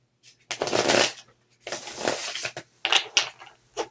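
Tarot cards shuffled by hand in bursts, a riffling, flicking rush with short pauses between passes, close and fairly soft with no talking.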